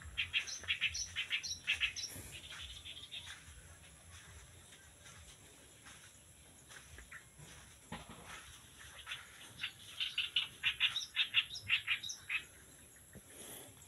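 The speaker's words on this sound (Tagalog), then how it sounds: "Tingnan ko po muna yung ibon, parang humuhuni siya." A pet bird in a home with a simple bamboo table chirps and sings in bursts of bright, twittering calls, busy at the start and again near the end, with quieter rustling in between.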